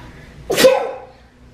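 A single sharp sneeze bursts out close by in a room where slime is being made, then fades quickly into quiet.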